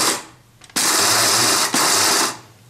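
An electric grinder coarsely grinds roasted edible gum (gond) in two loud whirring bursts, about one second each, separated by a brief pause, with quieter handling before and after.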